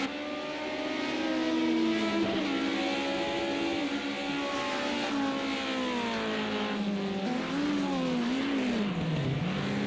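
BMW 2002 race cars at Hockenheim, engines revving loud and continuous as they race past, pitch rising and falling through gear changes and braking.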